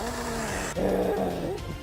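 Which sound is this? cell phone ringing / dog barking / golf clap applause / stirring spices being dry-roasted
dog barking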